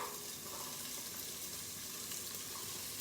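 Onions fry in a large cooker, a soft continuous sizzle with fine crackling spread evenly across the whole moment, fairly quiet and steady with no voices.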